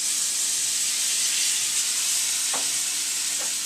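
Duck breast sizzles in boiling fat in a pan, a steady dense frying hiss filling the whole stretch, with a couple of brief louder spits near the end; no one speaks.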